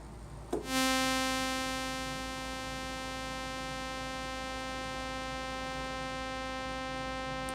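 A bright, buzzy Yamaha DX7 synthesizer tone, its carrier operator 1 envelope level raised, starts abruptly, swells loud, then holds steady as a sustained, harmonically rich drone for several seconds.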